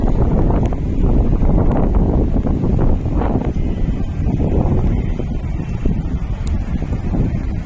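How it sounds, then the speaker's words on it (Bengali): Strong evening wind near the sea at Puri roars steadily into the microphone, a loud, continuous buffeting rumble with no letup and no voices. "প্রচন্ড হাওয়া দিচ্ছে, মানে এইরকম হাওয়া না আমরা তো এতবার ঘুরিয়েছি, এইরকম এত হাওয়া পাওয়া দেখিনি"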